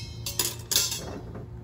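A metal trivet set into an Instant Pot, giving two or three quick close metallic clinks and clatters over a steady low hum.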